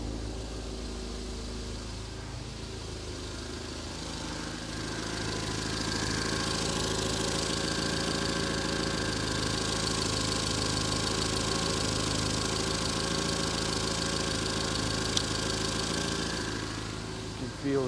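Engine idling after start, a steady close mechanical hum with a fine knocking texture and layered tones, swelling slightly louder after a few seconds and holding an even rhythm throughout.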